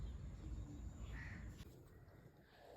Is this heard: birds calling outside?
yes